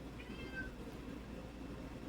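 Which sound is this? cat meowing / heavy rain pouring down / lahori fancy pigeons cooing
cat meowing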